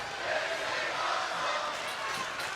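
A live wrestling crowd roars with a steady, dense wash of cheering and noise that fills the arena without a break.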